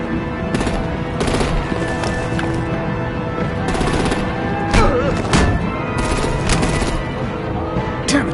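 Bursts of rapid artillery and gunfire in the Batman Telltale Series game crackle in repeated volleys over a dense, loud background, with heavier thuds scattered among the shots.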